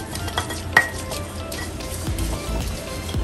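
Hot chili smashed hard in a bowl before mixing with peanut, a series of close dull thumps and clinks against the vessel with one sharper knock near the start, no speech.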